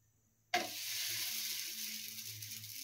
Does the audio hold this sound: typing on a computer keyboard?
no